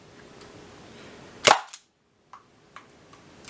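A Dart Zone QuickFire 8 foam dart blaster fires once, a sharp close snap followed by a faint clatter and a few small ticks as the dart strikes a chronograph.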